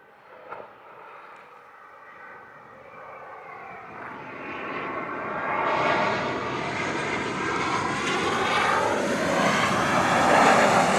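Southwest airliner engines at a Jamaica airport runway spool up, a low roar swelling into a rising, whining tone that grows steadily louder and nearer over the span, with no talk.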